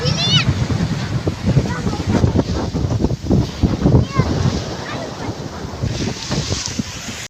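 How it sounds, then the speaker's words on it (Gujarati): Sea waves roll onto a beach at sunset in a loud, surging roar with rhythmic swells, mixed with heavy wind buffeting and occasional voices in the background. "મસ્ત દરિયાના મોજા આવે છે"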